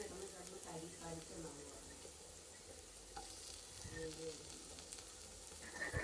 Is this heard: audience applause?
no